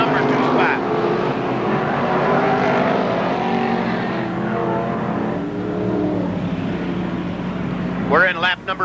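Modified race cars circle the oval at Merrittville Speedway in 1988, and their engines drone steadily under a public-address announcer who talks almost the whole time. A louder engine rasp sweeps past near the end.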